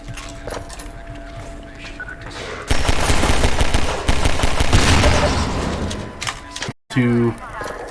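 Half-Life 2 gunfire in a burst of rapid, loud shots lasting a few seconds, dense and crackling, followed by a short cut and a clanking metallic sound, with a voice talking faintly around it.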